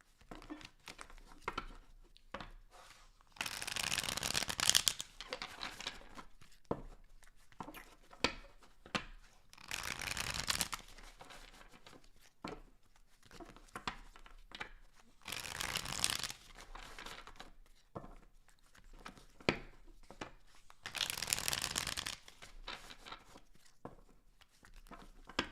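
Tarot cards are shuffled in several short crisp bursts of riffling and rubbing, close and quiet, separated by pauses of near silence.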